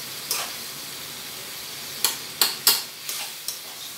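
Tomatoes fry in a pan under a steady sizzling hiss, with a handful of sharp scraping stirs and spatters breaking through the frying noise.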